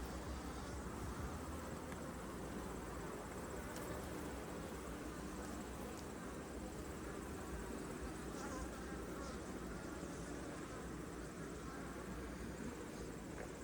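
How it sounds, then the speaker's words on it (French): Honeybees from an open hive drone in a dense, steady hum that carries on without a break, close and even in level, during an August hive inspection. "Il y a beaucoup d'abeilles dans le dessous aussi."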